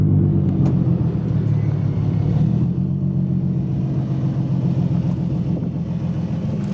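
An Infiniti G35 car engine and exhaust running nearby, a deep, steady burbling rumble that holds at an even level throughout, with faint clicks over it.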